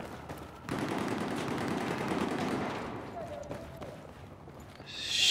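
Gunfire rattles through a Battlefield 4 Conquest match on Operation Locker, a dense burst of rapid shots that starts abruptly, holds loud for a few seconds and then thins out, mixed with game noise and a commentator's voice.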